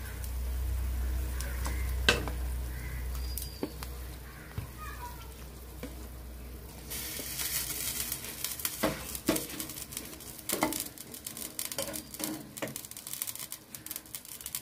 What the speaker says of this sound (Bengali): ঝোলটা ফুটে উঠেছে। এখন দিয়ে দিচ্ছি পুরে ভরা পটল।